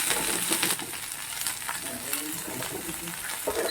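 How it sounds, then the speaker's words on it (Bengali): Cauliflower, potato, beans and carrots fry steadily in a pan, a continuous close sizzle with faint scraping stirs throughout, no voices. "ফুলকপি ভাজতে সময় লাগে সময় নিয়ে ভাজবে এখন আবার বিনস আর গাজর কেটে রেখেছিলাম সেগুলোকেও দিয়ে দিচ্ছি"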